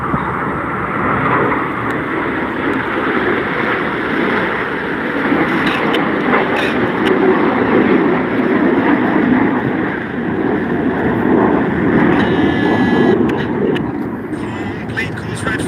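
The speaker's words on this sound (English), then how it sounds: "The inside jets will roll to the outside in the rollbacks." Jet aircraft fly rollback manoeuvres at the Canadian International Air Show, making a loud, steady, broad roar that holds for the whole stretch, with a faint whine rising near the end.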